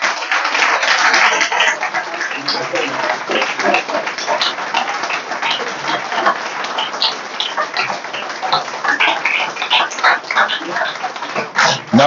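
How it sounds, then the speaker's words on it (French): A political rally crowd in Côte d'Ivoire applauding, a crowd's irregular clapping with sharp hand claps spread across the hall, sustained for several seconds at moderate loudness. "J'ai dit que vous pouvez vous applaudir."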